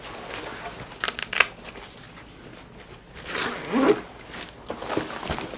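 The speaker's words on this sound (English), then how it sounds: "So let's zip this up." Zipper on a Klim Aspect 16 avalanche backpack being pulled closed in a few quick rasping strokes, close up and fairly quiet, with light rustling of the pack's fabric between pulls.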